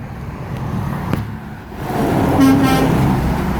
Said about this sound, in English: there's a Cascadia creeping up the hill to get a good honk